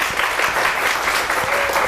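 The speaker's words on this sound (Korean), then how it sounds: "우리 박수 치면서 시작할까요?" Group of children clapping together at a camp lecture, a brief, lively burst of close applause throughout.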